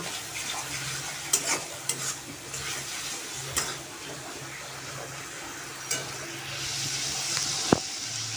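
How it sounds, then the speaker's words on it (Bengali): A ground spice paste fries with turmeric and salt for a Bengali parshe fish curry, with a soft sizzle under occasional clicks and scrapes of a stirring utensil. "এইবার দিয়ে দিচ্ছি হলুদ লবণ দিয়ে ভালো করে মশলাটাকে কষিয়ে নেব"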